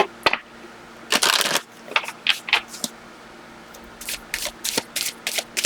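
Tarot cards being shuffled in a run of crisp, papery riffles and flutters, a long burst near the start followed by shorter bursts and a quick series of close snaps toward the end, with no voices.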